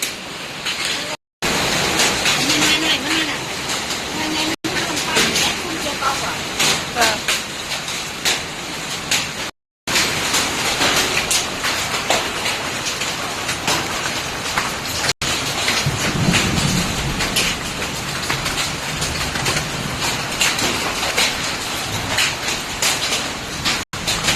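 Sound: hailstones falling

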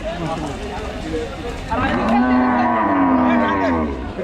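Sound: cow mooing at a cattle market

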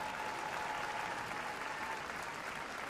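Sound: audience applause

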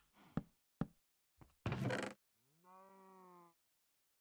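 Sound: cows in Minecraft video game

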